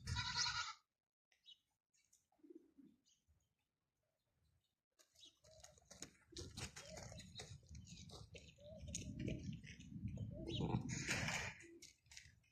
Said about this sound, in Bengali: দেখেন বাচ্চাগুলা মেয়ে করতেছে